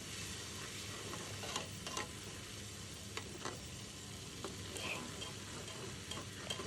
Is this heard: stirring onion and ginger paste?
yes